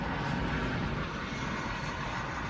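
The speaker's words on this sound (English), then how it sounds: "Chris Schaefer, there goes a plane. There it goes. Probably hear it." An airplane passes overhead outdoors: a broad, steady roar of engine noise that holds at an even loudness throughout, with no talking.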